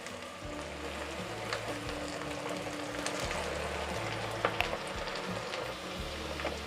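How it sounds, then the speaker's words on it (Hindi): Okra deep frying in hot oil, a continuous crackling sizzle with scattered bubbling pops, close and steady, with a low hum underneath and no talking. "देखिए हमारी ये भिंडी भी फ्राई हो चुकी हैं"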